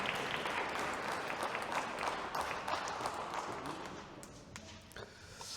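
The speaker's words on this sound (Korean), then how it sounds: "우리 영광의 박수 한번 크게 올리겠습니다" A church congregation at an Easter Sunday service claps in a sustained, dense round of applause that fills the room and slowly fades toward the end.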